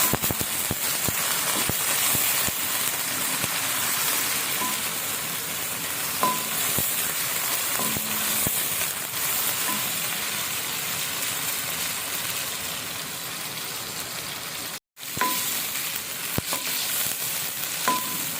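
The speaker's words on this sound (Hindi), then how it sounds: "चिकन को भूनें ज़रा अच्छी तरह से, चिकन का जो कलर है वो चेंज हो जाए।" Chicken pieces fry in a pan with a loud, dense, continuous sizzle like heavy rain, broken by occasional stirring scrapes and a brief dropout near the end.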